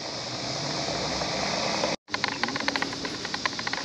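A 2020 Dodge Scat Pack's 6.4 liter Hemi V8 idles in a steady, close, low rumble with a hissing wash, briefly cutting out before returning with faint ticks; no talking.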